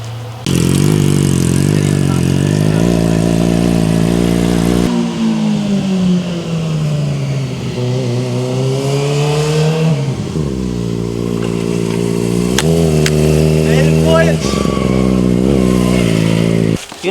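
A Kawasaki Ninja ZX4-RR fitted with a full titanium exhaust revs up close and loud, its engine pitch climbing and falling through repeated throttle blips for the whole stretch.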